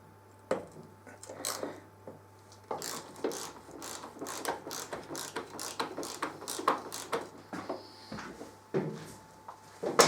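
Wrench working a motorcycle head bearing nut on a 2013 Triumph Street Triple R, slackening and then tightening it, heard as a run of close, sharp ratcheting clicks and metallic knocks in quick irregular bursts.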